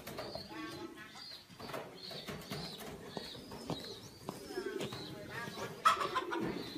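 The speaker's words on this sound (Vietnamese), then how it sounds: "Đây là chuồng chim bồ câu Pháp này." French pigeons coo in a coop on a farm, with repeated soft calls and some wing flaps, while other fowl sound nearby and a person talks faintly in the background.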